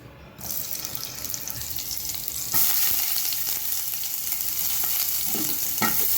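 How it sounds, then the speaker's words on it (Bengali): Chopped onions fry in oil in a pan for a noodle dish, a loud, close, steady sizzle that swells suddenly after a couple of seconds, with occasional stirring scrapes. "ভেজে নেব হালকা করে পেঁয়াজটা"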